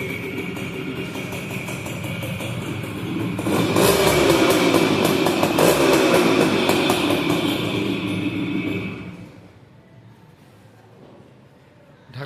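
A 1998 TVS Suzuki Samurai 2-stroke motorcycle idles and then revs, a loud buzzing engine that swells and holds before dropping back to a quieter idle.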